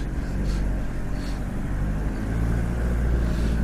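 A 1992 Toyota Hiace diesel 4WD dual cab fire truck with a manual gearbox driving along, steady low engine drone and road rumble from inside the cab, even and unbroken.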